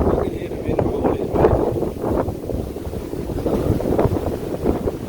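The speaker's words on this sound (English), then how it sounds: "You can hear the wind rolling," Strong wind from Hurricane Ian in Groveland, Florida roars and buffets the microphone in a steady loud rush, gusting up and down, with someone talking over it.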